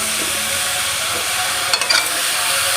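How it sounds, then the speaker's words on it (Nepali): Mixed vegetables stir-frying in a pan give a steady, loud sizzle and hiss throughout, with a brief clatter of stirring near the end. "तरकारी चाहिँ यहाँ मजाले भुटिसकेको"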